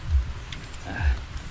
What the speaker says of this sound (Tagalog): Kusog na pong ulan mga idol oh.